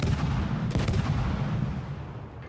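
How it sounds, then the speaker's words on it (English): Torpedoes launched from a Tashkent destroyer in World of Warships during a fight with an Alaska cruiser, heard as a dense rumbling barrage of game weapon fire with a brief sharper burst near the start, no voices. "Decide to drop some torpedoes in case he steers out."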